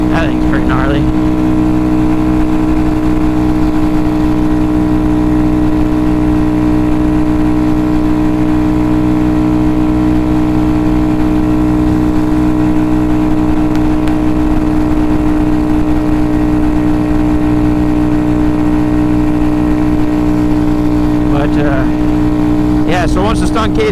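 Honda Grom motorcycle engine droning loudly and steadily while riding, a constant close buzzing hum with faint wind rush and slight revving swells near the start and end.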